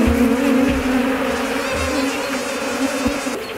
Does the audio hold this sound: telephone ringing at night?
no